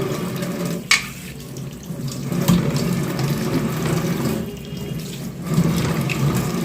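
Food being washed under a running tap in a kitchen sink, a loud steady stream of water splashing close by, with brief louder gushes as the food is moved, no talk.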